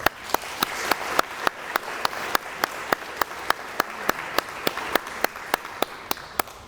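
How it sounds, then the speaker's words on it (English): An audience at a college signing day event claps steadily in a large room, a sustained wash of applause with a few louder individual claps standing out near the front. "I know we've clapped, but I want to clap a couple more times."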